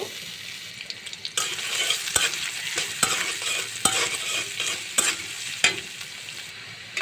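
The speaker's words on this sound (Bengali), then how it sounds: "কড়াতে আমি পরিমাণ মতন সয়াবিন তেল দিয়ে দিব এখন আমি পেঁয়াজ কুচাটা দিয়ে দিব" Chopped onion frying in soybean oil in a pan, a loud steady sizzle with sharp scraping stirs repeated every second or so, near and without talk.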